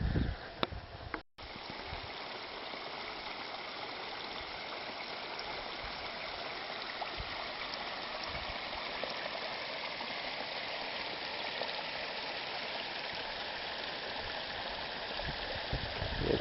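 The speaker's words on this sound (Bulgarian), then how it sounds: "Това е водата, която влиза в каците." Stream water rushing steadily into a cave sinkhole, a loud, continuous broadband gush that holds unbroken throughout, apart from a brief dip near the start.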